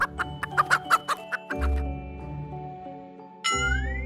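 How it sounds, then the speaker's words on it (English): A hen clucks in a quick series of short, clear calls near the start, and sustained musical tones and chimes follow in a children's alphabet song. "H is for hen."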